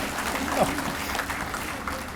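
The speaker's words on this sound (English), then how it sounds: "Yeah, you can clap for them." Audience applause at the Hawaii Sports Officials Hall of Fame ceremony for the organizing committees, a diffuse wash of clapping from a crowd with a voice faintly present beneath it.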